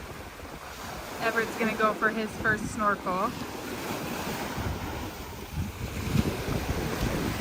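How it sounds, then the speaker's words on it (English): Surf rolls and wind buffets the microphone continuously at a Hawaii beach; a person speaks briefly early on over the rushing waves. "it is a bit windy, or it is a bit wavy."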